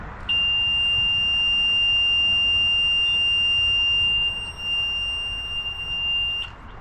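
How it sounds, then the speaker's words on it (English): A Mercury 300 outboard's key ignition lets out a single shrill, steady beep that holds for about six seconds before cutting off, loud and close over faint background noise. "it gives that 10-second beep"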